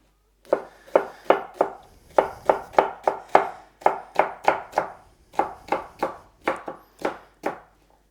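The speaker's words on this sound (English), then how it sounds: "I'm going to cut it in really long strips and then cut across to make little cubes" Knife chopping a pepper on a board into long strips and then small cubes, a steady run of about twenty crisp, close chops in quick bursts, with no voices.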